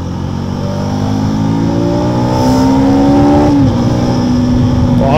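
KTM Adventure 390 motorcycle engine accelerating, a loud close engine note climbing steadily in pitch through a gear, then a brief shift and a renewed climb.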